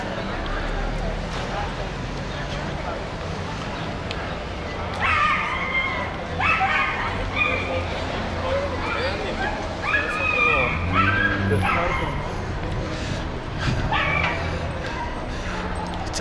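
Dogs bark, yip and whimper repeatedly on a street in La Condesa, Mexico City, the calls fairly close over steady outdoor ambience, with a person talking at times.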